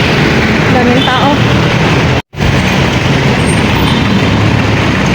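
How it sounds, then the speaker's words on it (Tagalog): Busy road traffic on a hot, crowded street in Baguio, a dense continuous roar of many passing vehicles, buses and trucks with one brief dropout, and voices mixed in. "Ayan, oh, daming sasakyan."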